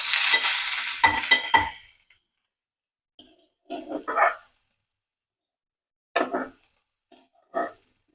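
A loud burst of sizzling opens as crushed shallots go into hot coconut oil, then short separate bursts of frying and stirring come and go with silence between them.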